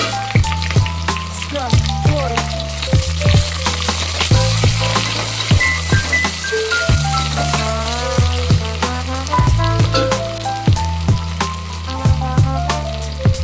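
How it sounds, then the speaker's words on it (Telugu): Thinly sliced onions frying in a pan, a loud close sizzle punctuated by regular clinking stirs of a spoon against the pan, with no talking. "ఇంకా ఉల్లిపాయలు కలర్ చేంజ్ అయ్యే వరకు మనం వేయించుకోవాలి"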